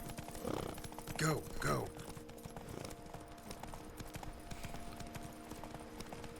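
Hooves clip-clop in a quick cantering rhythm as a horse moves in the Witcher 3 video game, fairly faint under a short spoken exclamation and steady background tone.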